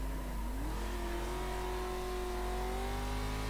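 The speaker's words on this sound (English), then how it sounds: "The revs just die, and then you're stuck just waiting for them to pick back up again." An off-road racing truck engine in iRacing at the Tsukuba circuit drones steadily, its revs sagging and then slowly climbing back in pitch. The engine note is continuous, with no voices.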